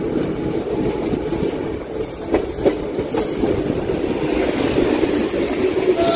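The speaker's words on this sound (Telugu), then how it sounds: "పిఠాపురం అవుటర్లో ఇంకొక ట్రైన్ వ్యాప్ 7 లోకోమోటివ్ వస్తుంది." A train hauled by a WAP-7 electric locomotive passing at the Pithapuram outer: a loud, continuous rolling rumble with clattering wheel noise and short metallic squeals and clicks in the middle, no voices.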